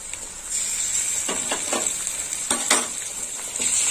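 Fish and eggplant curry sautéing in a pan with turmeric and green chili paste, a steady hiss of sizzling oil broken by several scraping stirs of a spatula, close and clear with no talking.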